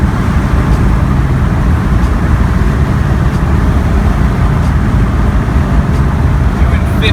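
A Toyota FJ60 pulls hard in fourth gear at about 45 mph with the pedal floored, a loud, steady engine and road roar heard from inside the cab with no break.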